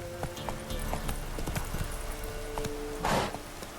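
Horse Roach's hooves clip-clopping in The Witcher 3, a close, regular walking beat of crisp hoof strikes, with a short breathy burst near the end.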